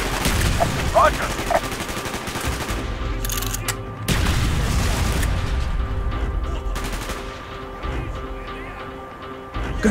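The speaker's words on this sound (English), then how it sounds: "Gunfire's drawing attention." Gunfire in Call of Duty: Black Ops: rapid bursts of automatic shots and sharp single cracks, loud and close, with voices shouting in between.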